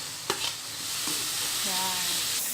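Fiery chilies stir-fried in a pan for mienas, noodles mixed with fried rice, give a steady loud sizzle with a few sharp scrapes and clinks of the utensil.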